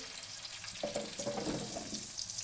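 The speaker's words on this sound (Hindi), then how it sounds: "तेल हमारा अब गर्म हो गया। पहले अब मैं इसमें डालूँगी आंवले।" Indian gooseberries (amla) dropped into hot oil for pickle-making, a steady hiss of frying with a brief bubbling surge as they go in, close and moderately quiet.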